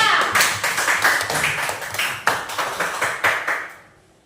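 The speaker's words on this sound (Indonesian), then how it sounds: "Kasih tepuk tangan buat kelompok 2." Students in a classroom clap for a presenting group, a lively burst of many hands with uneven rhythm that fades out near the end.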